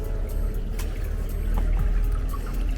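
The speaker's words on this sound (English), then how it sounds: "you hear that water?" Water flows steadily at the entrance of a South African property, a constant rushing wash with faint splashes and trickles, fairly near, with no talking over it.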